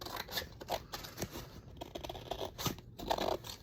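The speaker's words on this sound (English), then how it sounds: "Love my Tim Holtz big scissors. They're great for this job." Tim Holtz big scissors snipping through scrapbook paper, a close run of crisp crunchy cuts and rustling with brief pauses between strokes.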